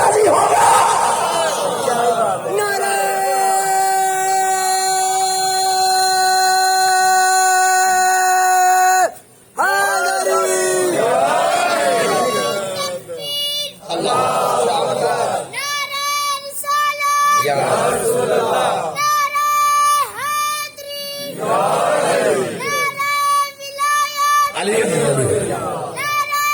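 A crowd at a Muharram religious gathering loudly shouts religious slogans in repeated chanted bursts, voices rising and falling in unison, with one long sustained call near the start and a brief pause partway through.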